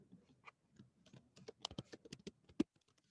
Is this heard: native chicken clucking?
no